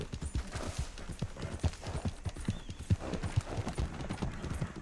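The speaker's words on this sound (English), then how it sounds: "I'm gonna call this horse Bob." Horse hooves clip-clop steadily in Red Dead Redemption 2, a brisk regular run of close, distinct hoof strikes on the ground, with no voices over them.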